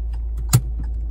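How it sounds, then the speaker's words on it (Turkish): Ignition key in a Hyundai i20 driving-school car turns once with a short metallic click and jangle, over a steady low engine hum inside the cabin. "Anahtarı bir kırk, bir tane çevir. Göstergeler yansın. Çevir şimdi."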